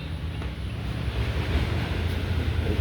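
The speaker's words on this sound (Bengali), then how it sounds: "এখানে খুব সুন্দর ঠান্ডা হাওয়া আসে" Cool wind sweeps across the open ground behind a temple near a pond, a continuous loud rushing roar buffeting the microphone with no voices.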